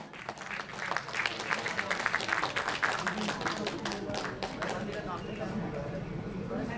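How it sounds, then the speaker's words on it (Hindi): An auditorium audience at an inauguration event applauds guests with steady, sustained clapping that fills the room, with a voice speaking over it. "एक बार जोरदार तालियों के साथ।"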